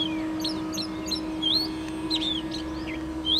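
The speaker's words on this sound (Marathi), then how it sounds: "त्यापैकी हा ओरिएंटल मॅकपाईन रॉबिन" An Oriental magpie robin in Ahmednagar, Maharashtra sings a series of short, bright whistled chirps and rising notes, moderately close, over a steady low background hum.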